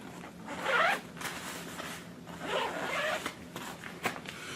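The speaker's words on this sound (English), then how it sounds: "both zippers open up fully" Zipper on a packing cube sliding open in a quiet room, two or three short rasping pulls with brief pauses between them, close and fairly soft.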